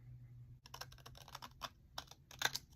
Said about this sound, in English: I'm now going to cut off this second card